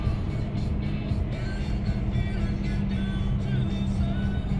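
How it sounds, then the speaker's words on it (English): Steady, loud low engine rumble from idling cars in a road traffic backup, constant and droning with little change, heard from inside a vehicle with some faint talk. "here's the traffic back up."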